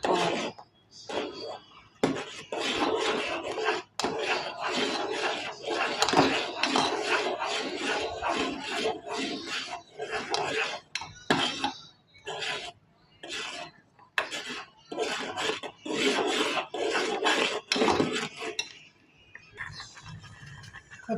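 A spoon stirs Bombay rava (semolina) into a pan for sweet prasadam, making repeated close scraping and rasping strokes against the metal in an irregular rhythm, broken by short pauses and a quiet stretch near the end.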